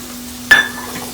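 A spoon stirs black chickpea usal with chopped coriander in a pan: one quick metallic scrape against the pan, with a soft sizzle behind it.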